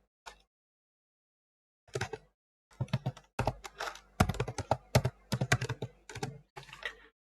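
Quick bursts of typing on a computer keyboard while entering a name during a virtual machine operating system setup, close clicking keystrokes in short runs with pauses, no talk.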